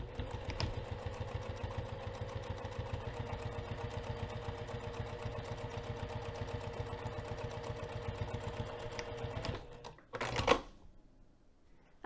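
Home sewing machine stitching a dart on a fabric bag at regular stitch length, a steady fast mechanical whir and needle rhythm running close and alone for about ten seconds before stopping with a few handling clicks.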